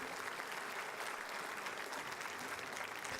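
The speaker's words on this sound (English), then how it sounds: "Give him a round of applause" A crowd applauds the mayor at a State of the City address: an even wash of many hands clapping, faint and distant, steady from start to finish with no speech.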